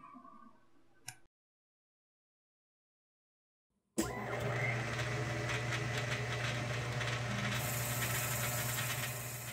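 A CNC milling machine makes cutting passes on a steam engine frame, a loud continuous close-up machining roar with a steady low hum and grinding texture that starts abruptly after a brief knock and near silence.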